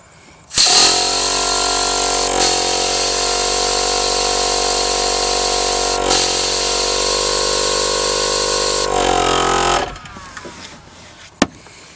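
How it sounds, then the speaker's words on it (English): A Sherpa Big Air compressor with its cooling fan, installed in a Toyota Landcruiser 200, starts abruptly and runs as a loud, steady mechanical drone with a constant whine for about nine seconds before cutting off. Faint clicks follow. "No one's going to hear this fan running."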